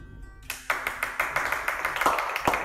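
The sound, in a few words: audience clapping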